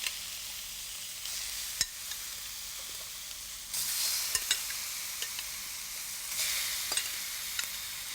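Steady sizzling of chicken stir-frying in a wok, with occasional scrapes and clinks of a utensil stirring; the hiss swells louder a couple of times.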